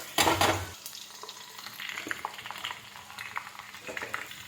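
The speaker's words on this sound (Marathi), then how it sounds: "त्यानंतर कापलेला लसूण टाकायचा." Chopped garlic dropped into hot oil with mustard seeds, a sharp burst of sizzling at first that settles into a quieter crackling fry with small pops.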